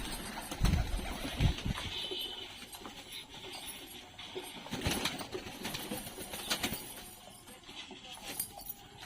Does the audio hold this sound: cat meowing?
no